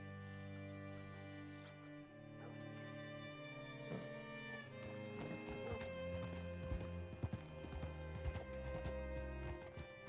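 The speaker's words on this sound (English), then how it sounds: "Hitch your horse up here" Hooves of a horse in a video game clip-clop unevenly, starting slow and growing busier, with tonal game music beneath and occasional faint snorts.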